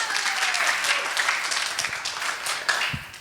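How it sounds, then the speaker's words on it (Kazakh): An audience at a Karakalpak stand-up comedy show claps in a steady, lively round, close and fairly loud, gradually thinning out over a few seconds. "Шапалақ жіберсек."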